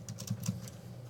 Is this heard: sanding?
no